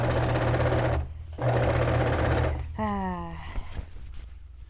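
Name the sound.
sewing machine stitching a dress skirt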